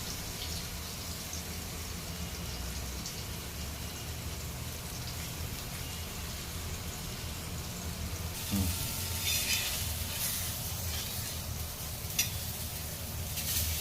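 Surmai (kingfish) pieces frying on a flat pan make a constant rain-like sizzle and crackle, growing brighter and louder partway through, with a sharp tap near the end; no voices.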